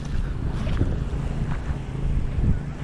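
Gusty wind at a waterside fishing spot buffets the microphone with a low, rumbling roar, rising and falling in bursts, with water sounds faintly beneath.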